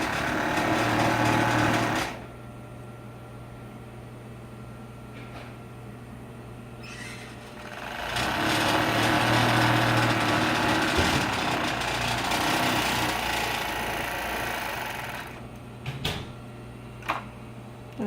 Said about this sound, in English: how she holds the fabric as she puts it through the serger